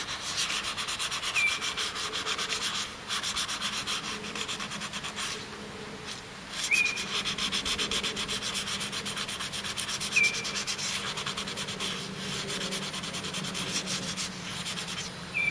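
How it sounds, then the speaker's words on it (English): Steady, continuous rubbing and scraping as paint is sanded down to bare metal on a 1990 van, a close, even abrasive hiss with slight surges that runs unbroken throughout. "I'm sanding down to the metal here"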